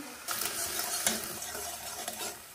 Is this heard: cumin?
yes